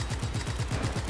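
Rapid gunfire from the video game Just Cause 3, a steady burst of evenly spaced low thumping shots, about eight in a second, close and continuous with no talking.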